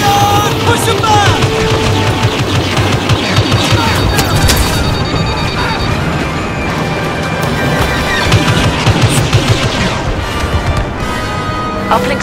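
Star Wars Battlefront battle on Hoth during a Walker Assault, with blaster fire crackling continuously amid booming heavier weapons and explosions in a dense, loud, unbroken wall of combat noise.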